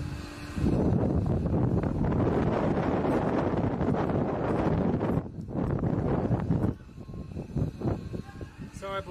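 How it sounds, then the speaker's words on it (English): Heavy wind buffets the microphone in a loud, continuous roar that drops away briefly and then eases near the end. "It's very windy. You're just going to have to deal with it today."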